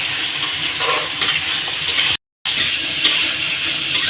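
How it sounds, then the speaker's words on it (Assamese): Marinated meat being stirred and fried in a pan, with steady close sizzling and the scrape and clink of a utensil working through the meat; a brief silent gap cuts the sizzle midway. "ইয়াত মই মেৰিনেট কৰি থৈ দিয়া মাংসখিনি বহাই দিম। এতিয়া এনেদৰে লৰাই থাকিব লাগিব।"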